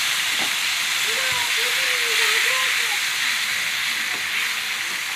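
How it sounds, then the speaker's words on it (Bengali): Broiler chicken meat sizzling in hot oil with cumin, a steady loud hiss of frying that runs unbroken, with a faint voice speaking underneath. "তেলের মধ্যে জিরা দিয়ে দিছি। তা আমি এই যে ব্রয়লারের মাংস এটা আমি আমার মধ্যে বাইজে নিব এখন দিয়ে।"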